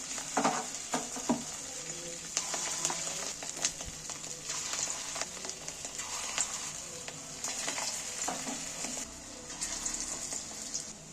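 Fish roe frying in small pieces in hot oil, a steady broadband sizzle running throughout with scattered clicks and scrapes of handling, fairly close and moderately loud, no voices.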